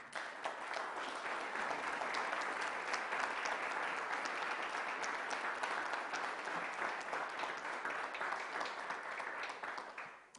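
Steady, sustained audience applause fills a county budget presentation hall, dense clapping holding at an even level for about ten seconds before dropping off at the end, with no talk over it.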